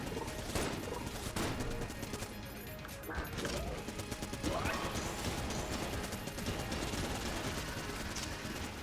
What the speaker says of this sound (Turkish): Baksana şu donduran mermiler çok güçlü ya.